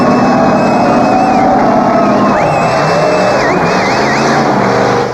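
Car engine revved to high RPM with sand in the crankcase, oil drained and water hose cut: loud, sustained mechanical whine with shifting pitch and sweeping tones, continuous and close.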